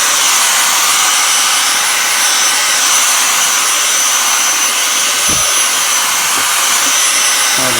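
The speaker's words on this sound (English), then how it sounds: "So now we'll get the vacuum and vacuum." A vacuum cleaner roars loud and steady at close range as it pulls metal filings off the frets of a mini Stratocaster-style electric guitar, with no talking over the noise.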